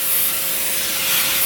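Baking spray hisses onto a round cake pan in one steady, continuous close-up burst lasting the whole moment, fairly loud with no voices.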